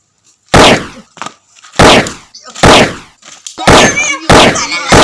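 Firecrackers bursting in a run of about five loud, sharp cracks spaced irregularly over a few seconds, close by, with brief voices and clatter between the blasts.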